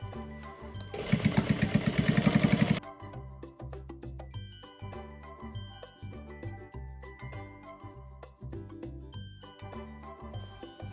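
A sewing machine stitches a waterproof portable baby changing pad with bias binding, its needle running in a steady rapid mechanical rhythm, then pausing briefly before resuming in short bursts while the fabric is turned at a corner.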